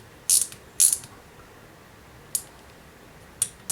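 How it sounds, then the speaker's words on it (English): Small 7/16 wrench tightening a fitting on an outboard motor carburetor fuel pump, with two sharp ratcheting clicks near the start and a few quicker metallic ticks later, close and crisp over a quiet background. "Get a little 7/16 wrench."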